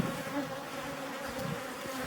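Apis cerana indica honey bees in Himachal Pradesh, India swarm a bowl of sugar-water feed set under a slate, making a dense, continuous buzz. The hum stays close and steady and no one speaks.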